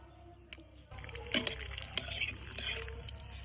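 Two bay leaves sizzling in mustard oil in a wok, a soft crackling fry with sharp spits and pops, faint and close, with no talk.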